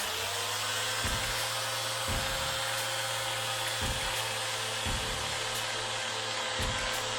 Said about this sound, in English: So, it's time for sanding